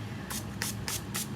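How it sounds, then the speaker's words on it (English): Detangling spray from a pump bottle is misted onto hair in four quick, evenly spaced bursts, close and crisp, with no talk. "I really want to put my detangling spray in from CVS"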